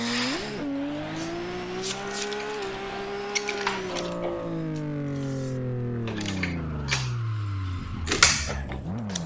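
A drift car laps the Baypark circuit in a D1NZ round, its engine revving in long rising and falling sweeps that shift pitch through the corners, loud and steady throughout with no talk.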